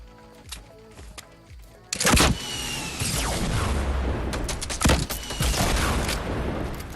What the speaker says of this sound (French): On entend encore des tirs devant.